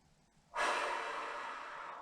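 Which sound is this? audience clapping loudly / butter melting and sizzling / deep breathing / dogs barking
deep breathing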